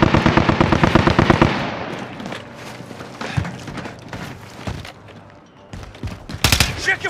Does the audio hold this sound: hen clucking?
no